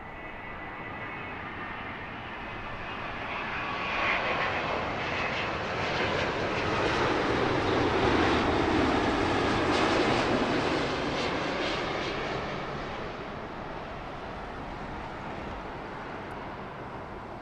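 A Virgin airliner passes on landing approach to runway 09 left at Heathrow, a broad jet-engine roar swelling from about four seconds, peaking near ten and fading away by the end, with no voices.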